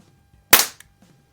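One sharp crack from an early 1960s Crosman 760 pump air rifle charged with five pumps, fired at a target: a single abrupt pop with a quick fade and no voices.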